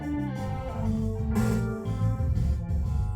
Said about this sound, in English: Sort of a weird echoey sound.